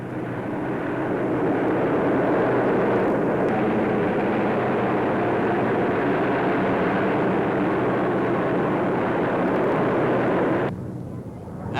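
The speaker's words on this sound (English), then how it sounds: "They were followed by the famous Canberra bombers." Canberra jet bombers roar overhead in a flypast, a loud, steady broadband rush of jet noise sustained for about ten seconds before dropping away quickly.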